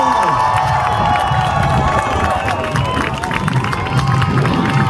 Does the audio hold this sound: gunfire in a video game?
no